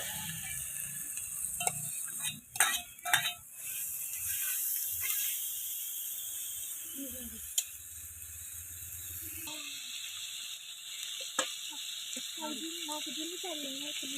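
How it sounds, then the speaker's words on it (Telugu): Prawns hit a hot pan of frying ginger and onion, giving a steady hissing sizzle with scraping and clattering of a utensil, heard close under a person talking. "అల్లం చిల్లిపాయ వేగింది కదా, ఇప్పుడు రొయ్యలు వేస్తున్నాను."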